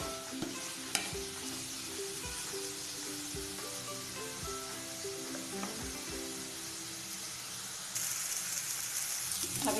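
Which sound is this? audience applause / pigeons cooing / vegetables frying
vegetables frying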